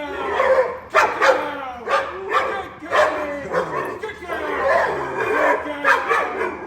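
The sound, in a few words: young dog barking during training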